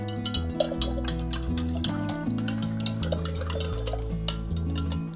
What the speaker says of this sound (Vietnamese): Và sau 2 giờ, các bạn khuấy đều gạo lên.